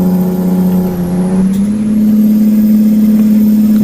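Kenworth T100 truck engine in American Truck Simulator, a steady, loud mid-pitched drone that climbs in pitch as it revs up partway through, then holds high and even.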